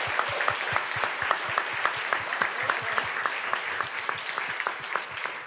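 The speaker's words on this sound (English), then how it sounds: "Can we have a quick round of applause for our panel," Audience applause for a panel at the Safer Internet Forum 2022, a steady patter of many hands clapping in a hall for several seconds, fading slightly toward the end.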